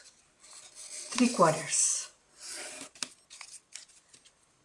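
Sheet of paper being creased and folded into an origami goldfish, with short crisp rustles and crinkles following a brief spoken phrase.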